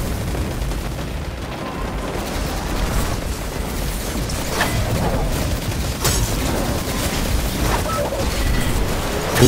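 Dense, continuous battle noise from Destiny 2 Beyond Light, with repeated gunshots and booming explosions layered over each other at steady loudness for the whole stretch, with no clear talk.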